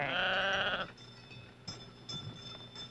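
Sheep bleat loudly and close in a rural Navajo herding setting, one sustained bleat filling the first second before fading to quieter, scattered farm noises.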